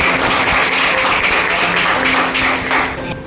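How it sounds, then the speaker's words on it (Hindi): A room of students bursts into loud, dense clapping for their teacher at an essay competition event in Raebareli, a steady wash of many hands that tapers off slightly at the end. "एक बार अपने अध्यापक के लिए जोरदार तालियां बजाइए"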